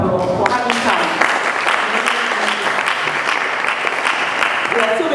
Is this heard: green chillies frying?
no